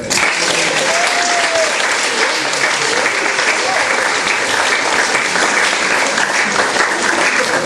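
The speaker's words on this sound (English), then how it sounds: "I think they deserve a round of applause." Loud, sustained applause from a large crowd, dense and continuous for several seconds, with a few cheers or voices mixed in.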